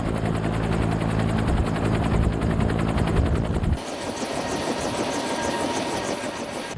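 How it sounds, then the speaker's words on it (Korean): A Cobra attack helicopter lifts off from the ground with a loud, rapid rotor chop and engine roar. The heavy low thumping drops away midway, leaving a sustained turbine whine and rush. "드디어 코브라 헬기가 지상에서 발걸음을 떼려고 한다."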